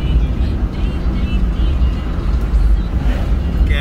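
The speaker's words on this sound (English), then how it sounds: "it's a nice Peterbilt, you know? On a lot of weight" Loaded Peterbilt truck rolling downhill, a steady low engine rumble and road roar held at constant loudness throughout, close and continuous with no pauses.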